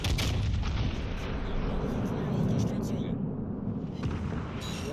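Heavy battleship guns fire shells in the naval game World of Warships Legends, aboard the Vermont: booming, rumbling blasts fill the mix with dense low thunder, with a voice faintly underneath.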